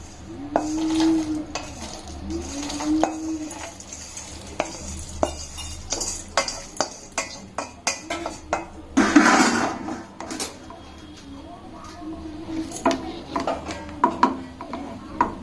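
Whole spices such as cardamom and stone flower being dropped and handled into a mixer jar at home for chicken and mutton masala, a series of clinking taps and rattles with a brief louder clatter midway.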